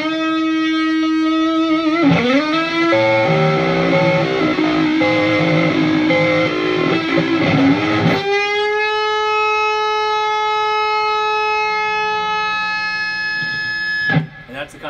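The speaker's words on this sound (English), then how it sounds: "like a bluesy kind of an overdrive." Coyle Custom Strat electric guitar with a baseball bat neck played through a bluesy overdrive gain boost, sustained distorted chords and bends ringing loud and close, with a long held note before a final short strum.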